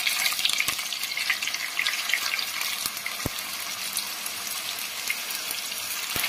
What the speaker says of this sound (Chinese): 全部翻过来之后继续给它煎，把另一面也煎至金黄